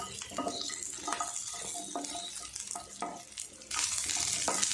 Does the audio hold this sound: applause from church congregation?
no